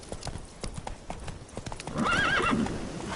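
Roach the horse gallops with brisk, close hoofbeats in The Witcher 3, then lets out a loud whinny near the end.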